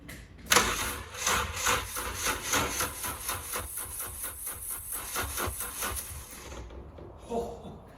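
A Fiat Punto Mk2 engine, a swapped-in HGT unit with its dog bone mount unattached, cranks over with a steady rhythmic churning for several seconds, loud and close, then cuts off.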